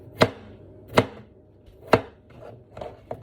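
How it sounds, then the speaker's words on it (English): A knife chops boiled potatoes into bite-sized pieces on a cutting board, with three sharp, evenly spaced thuds followed by a few softer cuts, close and with no talking. "Then you're gonna cut them into bite-sized slices."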